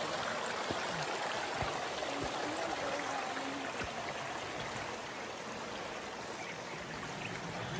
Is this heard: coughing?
no